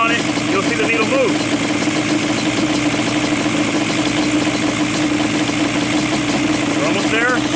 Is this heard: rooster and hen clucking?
no